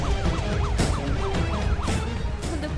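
An ambulance siren wails in a repeating rising-falling pattern over steady road traffic rumble, loud and close throughout as the vehicle passes, with no talking.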